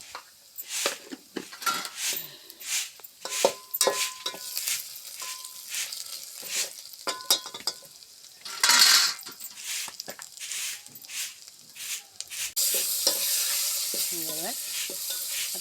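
Masala paste of garlic, ginger, red chilli, garam masala and onion-coconut paste fries in a pan, with a steady sizzle, repeated scraping stirs and clinks of a utensil against the pan.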